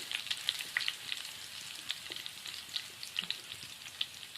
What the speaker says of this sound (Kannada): ಇದಕ್ಕಂದ್ರೆ ಕೆಂಪಗಾಗಿ ಎಣ್ಣೆಗ ಫ್ರೈ ಮಾಡ್ಕೊತೀನಿ ರೀ